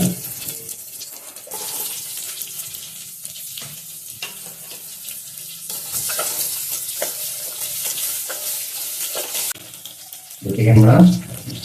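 Mustard seeds and curry leaves crackle and sizzle in hot oil as tempering for an olan dish, a steady close frying hiss with stirring, splashes of running water and brief speech.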